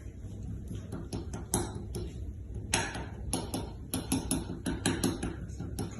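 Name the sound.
fork pricking holes in tart pastry dough in dish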